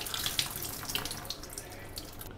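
Raw prawns rinsed by hand in water in a kitchen, with a steady wash of splashing and running water and a few small clinks, moderately close and with no talking.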